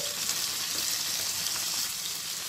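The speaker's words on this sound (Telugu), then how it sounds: "ఈ చిక్కుడుకాయ ముక్కలు వేగి ఉడికే లోపల ఆ ఉల్లిపాయలు కూడా వేగిపోతాయి." Broad bean pieces and onions frying in a pan, a steady close hiss and sizzle with faint crackles and no pauses, heard alone without any speech.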